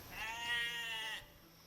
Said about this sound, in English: Double click the sheep, I think.